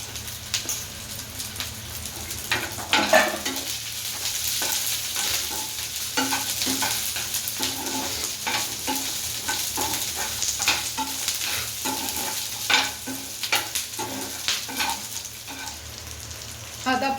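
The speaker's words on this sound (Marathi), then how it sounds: "आता कांदा आणि शिमला मिरची टाकून घेऊया" Onion and capsicum stir-fry in a hot pan for a red chilli dish, with a steady sizzle broken by repeated scraping and stirring strokes, close and continuous without voices.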